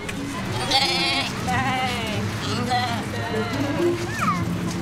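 Sheep bleating in a pasture setting, several wavering calls scattered through the stretch over steady farmyard background, with voices murmuring faintly behind.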